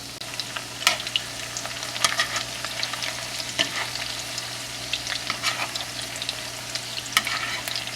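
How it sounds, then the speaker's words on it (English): Meatballs fry in about a quarter inch of oil in a cast iron pan, a continuous close crackling sizzle broken by occasional sharper pops and scrapes as they are turned. "Now we put it into a cast iron pan with about 1/4 of an inch of oil, and you turn them around"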